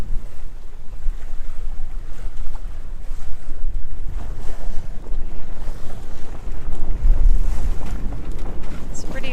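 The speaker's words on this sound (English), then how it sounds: "The sail is flapping." Sail on a boat at sea in the Exumas, Bahamas, flapping in steady wind, a continuous rushing, fluttering roar with buffeting wind noise on the microphone and water around the hull.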